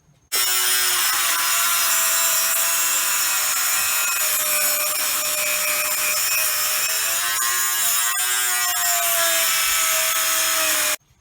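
A power tool cuts out a loose bolt on a BMW Z3 during a strut bar install, a loud, continuous, steady whine lasting about ten seconds.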